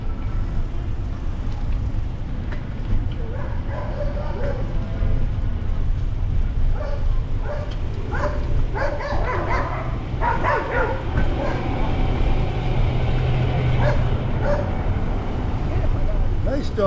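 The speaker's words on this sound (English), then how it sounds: "Dogs are guarding the car, not the house, by the way" Several dogs bark and yip in a steady string of barks over a constant low engine rumble, guarding a car in Dearborn, Michigan, with a person talking throughout.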